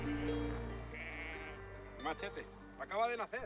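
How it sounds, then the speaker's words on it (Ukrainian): A merino lamb born an hour earlier on an olive and sheep farm gives short, thin bleats near the end, while people talk close by. "Це ягня народилася годину тому."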